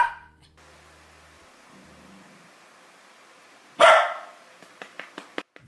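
A dog gives one loud, close bark after a quiet stretch, then a run of shorter, softer yips and barks in quick succession.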